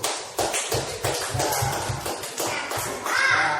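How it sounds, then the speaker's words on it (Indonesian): A class applauds in a room, a burst of fairly quiet, uneven claps from many hands lasting a few seconds. "Ya, tepuk tangan dulu."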